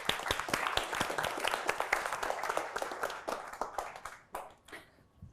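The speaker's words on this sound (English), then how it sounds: "Let's give them a round of applause" An audience at a panel session claps for the speakers on stage with quick, distinct hand claps that thin out and die away into a few last scattered claps near the end.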